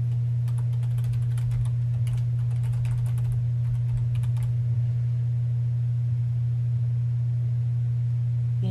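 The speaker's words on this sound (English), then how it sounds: "You need to go ahead and type in your help email." Keys on a computer keyboard clatter in quick, light bursts during the first half as an email address is typed. A steady low electrical hum sits underneath throughout, and the typing stops well before the end.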